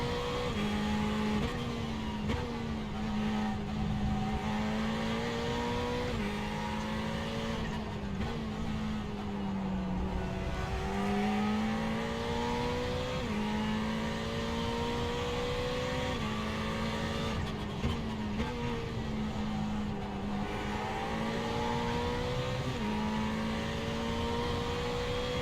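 Ferrari 488 race car engine at Brands Hatch in iRacing, a loud continuous drone that climbs through gears and drops on each shift, with repeated upshifts and downshifts over the lap and no voices.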